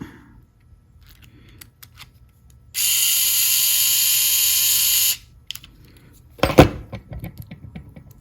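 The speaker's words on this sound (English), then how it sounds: "so we'll get this together, put the screw in it" A small electric screwdriver whirs steadily for about two seconds, driving a screw into a WL Toys 12423 short course RC truck, followed by a sharp clatter of handling.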